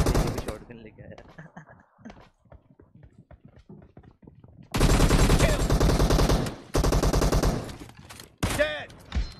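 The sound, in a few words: shotgun and gunfire in a mobile shooter video game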